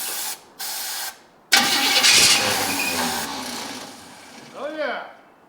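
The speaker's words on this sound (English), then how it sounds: "we're going to squirt it down the carb and give it a couple cranks, see what happens" A 1953 GMC 100 pickup engine cranks in two short bursts, then catches and fires up loudly, settling into a rough, uneven run close by; people call out briefly near the end.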